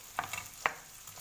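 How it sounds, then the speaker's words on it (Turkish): Potatoes fry in a pan for a Turkish potato omelette, a quiet sizzle with a couple of brief scraping stirs against the pan, close and soft, with no talking. "Tavada kızarıyor patatesimiz."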